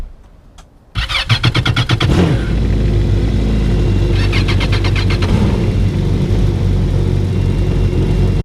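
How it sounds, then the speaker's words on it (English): Yamaha marine outboard engines crank with rapid starter chatter, then catch and settle into a loud, steady idling rumble, with a second cranking burst partway through. "First thing I'm going to do is turn the engines on"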